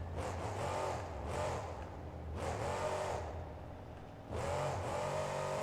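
Monster truck engine in a stadium roars through repeated loud revving surges, rising and falling in bursts as the truck guns the throttle, with a continuous low rumble between.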